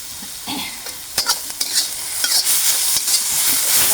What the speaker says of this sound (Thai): แล้วจะผัดให้มันแห้งเลยนะคะ